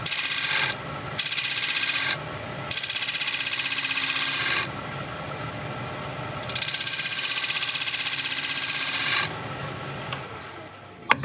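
Sanding a spalted beech bowl with wings, likely on a lathe: a steady close rasping hiss that rises and falls in long stretches, broken by short pauses, with no talking.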